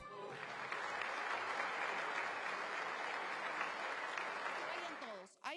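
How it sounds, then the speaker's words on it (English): A ceremonial crowd gives continuous, steady applause at the swearing-in of Peru's president. The clapping holds evenly for about five seconds and fades at the end, with a voice faintly audible underneath. "Peru's 7th president since 2016 took office under flashing cameras and weary applause"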